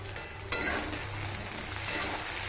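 Potatoes and onions frying in a pan for vegetable aloo rice, a steady close sizzle throughout with a brief sharp scrape of stirring near the start.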